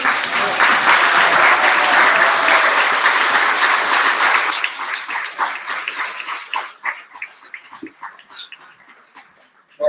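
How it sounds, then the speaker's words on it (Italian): Sustained audience applause at the final ceremony of a literary award, loud and dense at first, then thinning into scattered claps that fade out over the last few seconds. "Non ho sentito l'applauso."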